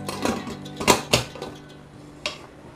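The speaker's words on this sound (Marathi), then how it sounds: "झाकण लावून घेते।" A pressure cooker lid is set in place and closed in a home kitchen, giving a few close, sharp metallic clanks and clatters spread over a few seconds, with no talking.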